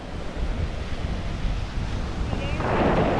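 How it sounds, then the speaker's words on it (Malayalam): Steady roar of sea waves on a beach in Kollam, Kerala, with gusting wind buffeting the microphone, a broad rushing wash that swells louder toward the end. "കടലിന്റെ എരമ്പല് കേട്ടാ."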